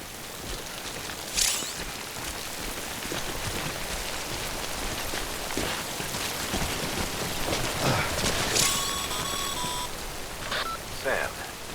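Timefall rain pours in the video game Death Stranding, a constant hiss of falling drops with occasional louder splashes and a few faint electronic beeps near the end.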